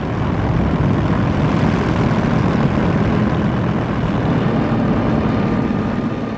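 Propeller-driven Luftwaffe aircraft flying over Malta, a loud, steady engine drone that holds without a break, deep and rumbling, with no voices.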